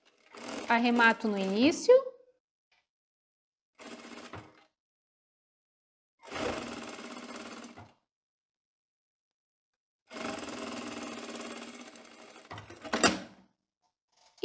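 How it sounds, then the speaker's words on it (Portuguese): Short bursts of a sewing machine stitch the waistband onto a tailored skirt, running in several separate runs of a few seconds each, close and clear, with someone speaking briefly between them. "vou costurar o cos 1 centímetro"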